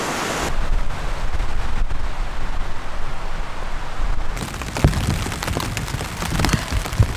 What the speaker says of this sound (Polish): Wszystko zgodnie z planem, leje, znaczy na razie pada, jeszcze nie leje.